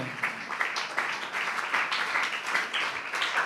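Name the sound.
congregation clapping hands in church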